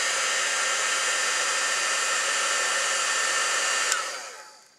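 A heat gun blows hot air over layered craft material to melt it, a steady, close, loud hissing roar that runs unbroken before being switched off and fading out.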